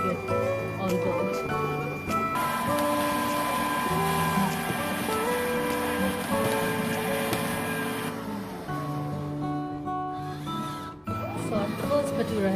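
A Rotimatic machine whirs and hums steadily as it mixes all-purpose flour and oil into bhatura dough. Tonal motor drones shift in pitch partway through, with brief clicks and mechanical knocks.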